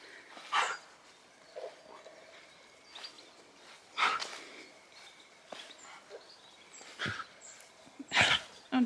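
Husky dog coughing and snorting indoors; several short, sharp bursts spread irregularly over the stretch, close and fairly loud against a quiet background.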